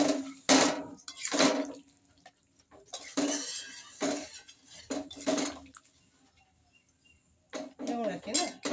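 Water splashes into a pan of potatoes cooking in oil, with clatter from the pot and utensil in several bursts and stirring in between, heard up close in a home kitchen.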